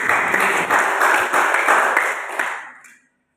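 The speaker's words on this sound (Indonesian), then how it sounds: "Tepuk tangan buat Yesus." A church congregation clapping during an Indonesian worship service, a dense, steady burst of applause lasting about three seconds before fading out quickly.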